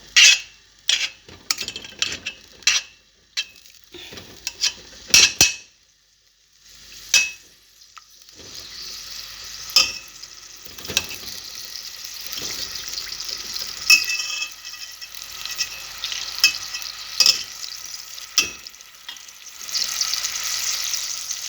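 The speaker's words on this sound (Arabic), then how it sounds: "خواتاتي نذوبوا الزبدة هذه بشوية" Butter melting in a pan with onion and garlic about to follow, a steady close sizzle running through most of the stretch, broken early by several sharp clinks and scrapes of a utensil against the pan.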